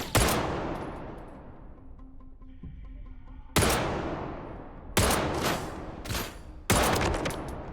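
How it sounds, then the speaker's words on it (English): Shotgun blasts in STALKER 2, four loud booming shots spaced a second or more apart, each with a long decaying echo, over a low game background. "These are shotguns peppering me."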